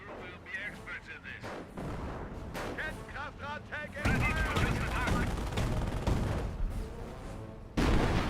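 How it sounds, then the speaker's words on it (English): Officer-called artillery fire in the WWII strategy game Company of Heroes, with loud repeated booms and rumbling barrage impacts layered over battle noise, plus a voice talking over it. "Wait, oh, it's more officer artillery."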